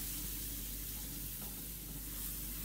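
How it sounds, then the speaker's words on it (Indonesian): Ground spices with sugar, pepper and coriander sizzle steadily while being stir-fried. A soft, continuous crackling hiss carries on without a break, with faint stirring and no voices. "Kita tumis semuanya sampai bumbunya benar-benar mateng."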